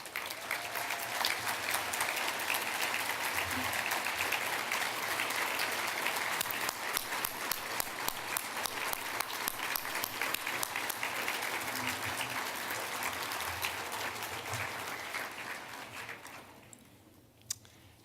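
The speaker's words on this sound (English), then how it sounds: "please give them a round of applause" A dinner audience at a chamber of commerce annual dinner gives the chamber staff a long, steady round of applause, many hands clapping in a dense sustained roar that slowly tapers off near the end.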